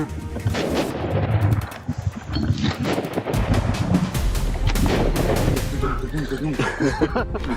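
Gunfire from a lion hunt in Africa: several sharp, loud reports ring out over a noisy, windy outdoor scene, with excited voices shouting around them.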